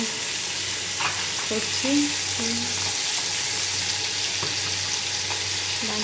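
Fish fries in a pan with a continuous loud sizzle and crackle, joined by a few scraping stirs and light utensil taps near the cooking; a brief spoken word is heard once.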